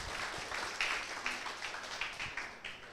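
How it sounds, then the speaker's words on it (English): Audience at the 2nd ICONPEORI 2023 academic conference claps for a keynote speaker, a sparse, fairly regular run of distinct claps at moderate volume over a low room hum. "let's give a big round of applause for Dr."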